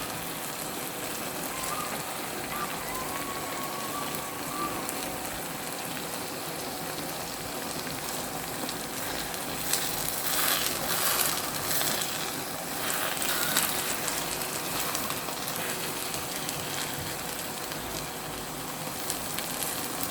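Eggs for egg sauce foam and sizzle in a pan, giving a steady, dense crackle like light rain that swells a little louder toward the middle, with no voices.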